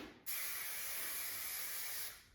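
A single sustained hiss of an aerosol hairspray, starting abruptly and lasting about two seconds before tapering off, close and fairly loud.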